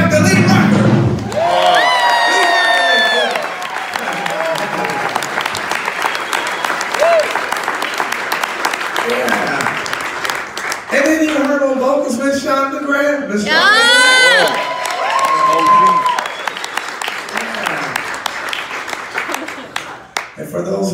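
A crowd at a live big band jazz concert breaks into loud applause and cheering, with whoops and shouts riding over steady clapping for about twenty seconds.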